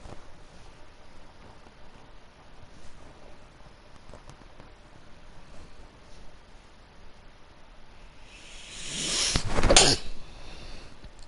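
A single sharp sneeze bursts out near the end, loud and close, after a long stretch of faint, steady background hiss with no talking.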